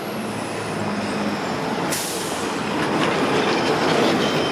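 A Toronto subway train runs through St. Andrew Station, a loud, steady roar of rolling wheels and rail noise with a sharp hiss of air brakes partway through, close and continuous throughout.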